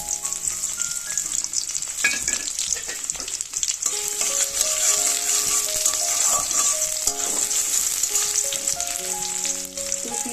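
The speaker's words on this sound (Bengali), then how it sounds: "এবার আমি দিয়ে নেবো পেঁয়াজ আর কাঁচা লঙ্কা।" Onion and green chilli frying in hot oil in a wok, a steady loud sizzle with scraping stir strokes and occasional clinks running throughout.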